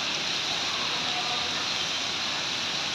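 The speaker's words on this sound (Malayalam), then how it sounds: "നല്ല മഴയാണ്" Heavy rain pours down in an even, continuous hiss of drops on surfaces, unbroken from start to finish.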